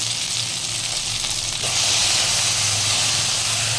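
Hilsa fish seasoned with salt and turmeric fries in a pan, a dense continuous sizzle that grows louder and hissier partway through, close and alone.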